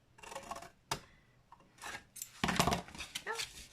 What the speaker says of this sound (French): On va couper comme ceci.